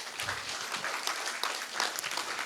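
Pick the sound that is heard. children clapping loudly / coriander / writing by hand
children clapping loudly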